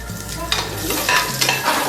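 Onions frying in a pan with a pinch of asafoetida, steady close sizzle with bursts of stirring scrapes and spoon clinks throughout, no voices.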